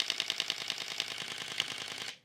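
A Sony A7IV fires its mechanical shutter in a burst at 10 frames per second, a rapid, even train of crisp clicks close up that stops after about two seconds.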